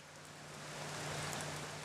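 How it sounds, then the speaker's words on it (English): Steady rain downpour in rural New Zealand, a soft even hiss of falling water that swells slightly louder over two seconds, with no voices. "Although not everybody enjoys a downpour."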